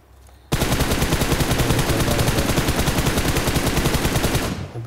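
P90 submachine gun firing in a mecha event mode of a shooter video game, one long unbroken burst of rapid, loud, evenly spaced shots lasting about four seconds after a quiet start, no talking.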